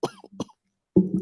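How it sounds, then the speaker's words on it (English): Two harsh coughs burst close into a microphone, followed by a short gap and then a louder, rougher throat-clearing cough from a sick person. "we're going to cough directly into the mic like a terrible person"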